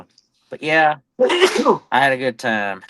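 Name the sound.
sneeze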